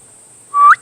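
A man imitates the honeyguide bird's call in Tanzania with a single short, rising whistle lasting about a quarter second, clear and close against quiet surroundings.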